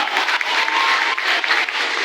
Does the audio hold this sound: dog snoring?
no